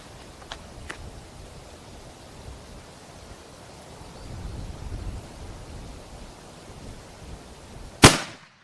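A .50 caliber rifle fires at a target over two miles away, a single sharp, loud blast with a brief decaying tail, preceded by faint ambient rumble and two small clicks.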